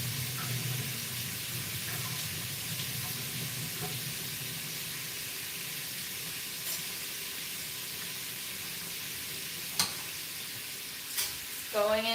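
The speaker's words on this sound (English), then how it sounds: "I'm going to drain our barley." Cooked barley drains, giving a faint steady hiss of running water that carries on for several seconds, with a few small clinks and a brief voice near the end.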